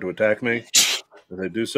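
A sharp, hissy sneeze bursts out between stretches of a person talking close by during a live tabletop Dungeons & Dragons game.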